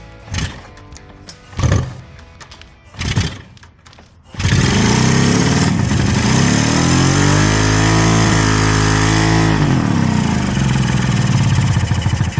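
A Kawasaki H2 750 motorcycle engine fires up after a few short cranking bursts, then settles into a loud, steady, raspy running note close by.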